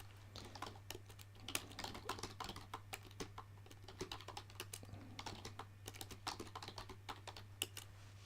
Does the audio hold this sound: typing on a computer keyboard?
yes